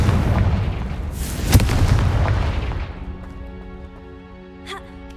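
A Confringo blasting spell in Hogwarts Legacy lands with a loud, sharp boom that rumbles and then fades into quieter ambience, with a brief ringing chime near the end.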